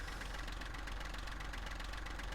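A tractor engine in the Farming Simulator video game runs at a steady idle, a continuous low rumbling drone with faint knocking, even and unbroken, with no talk.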